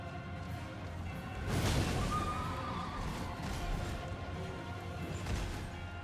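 A horse in Elden Ring lets out a loud whinny over busy combat noise, with impacts and hoof thumps around it.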